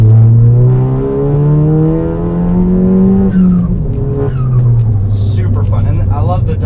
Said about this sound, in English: And I love the diverter valve sound.